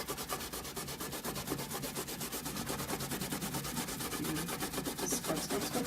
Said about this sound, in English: I'm going to use the scrubby side of my old sponge here.